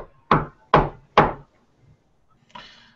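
Three firm, evenly spaced knocks on a wooden door ring out close and clear, followed by quiet and a softer rustling thump.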